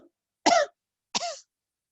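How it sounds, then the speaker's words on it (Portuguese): Two sharp, forceful coughs expelling breath during a guided breathing exercise, about half a second apart, loud and close with silence around them. "E expira em 3 tossidas."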